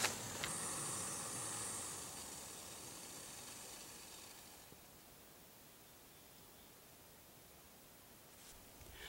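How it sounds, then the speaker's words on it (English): A kettle on the boil gives off a faint, steady hiss of steam that is strongest at first, then fades to a low background wash after a few seconds; no voices. "I think my kettle's boiling, so I'm just going to turn that off"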